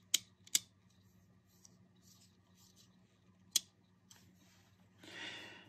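An X-Acto knife scores the label on a Citadel Contrast paint pot: a few sharp, quiet clicks spaced seconds apart, then a brief soft scraping rasp at the end, close up against a low steady background hum.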